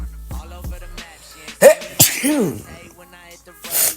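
A single sharp sneeze bursts out, framed by breathy vocal sounds and a bit of speaking.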